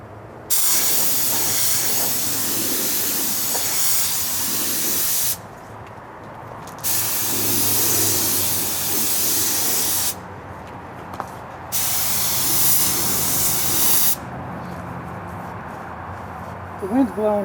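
A spray gun lays a second coat of paint on a 1964 Ford F100 hood outdoors, in four long steady hissing passes separated by brief pauses, with faint background noise between them.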